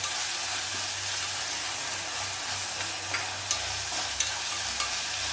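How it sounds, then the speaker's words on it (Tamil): Steady hissing sizzle of onions sautéing in a pan, with occasional soft clinks of stirring, continuous and fairly quiet. "அதனால் வெங்காயம் வதங்கட்டும்"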